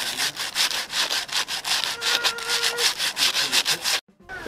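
Rhythmic back-and-forth scraping of sandpaper on wood by hand, steady strokes up close, stopping abruptly near the end.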